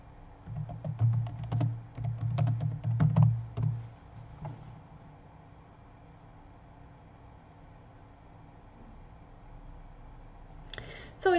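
Computer keyboard typing, a burst of quick clicking keystrokes in the first few seconds, then a quiet room with low hum and a brief click near the end.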